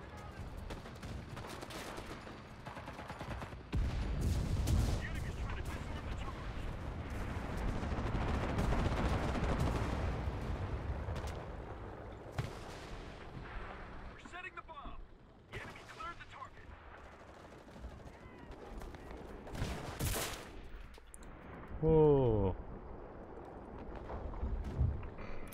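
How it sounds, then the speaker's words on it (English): Video game gunfire rings out in repeated bursts and single shots, loud at times and fading to quieter stretches, mixed with chaotic in-game battle noise across the whole stretch. "The sounds of the guns are nice."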